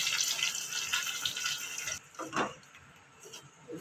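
Water pours steadily for about two seconds into a cooking pan of tomato chutney, then stops, followed by a few soft splashes and clinks nearby.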